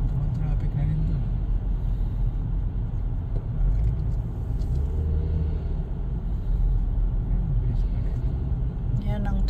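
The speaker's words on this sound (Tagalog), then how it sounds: "Yan ang traffic dito sa 401 paggabi." Steady, dense rumble of night highway traffic on the 401 near downtown, heard from inside a moving vehicle. Low road and engine noise runs continuously, with a voice talking faintly underneath.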